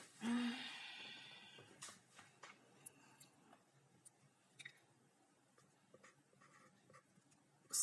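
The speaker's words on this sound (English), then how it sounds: "I will write for you right now." Pen or chalk writing during a classroom lesson, faint intermittent scratches and taps, with a brief louder rustle at the start.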